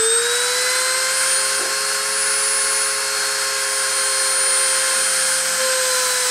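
A machine spindle spins up to 30,000 RPM for deposition, giving off a steady, loud, close high-pitched whine with a constant tonal hum, unbroken and alone.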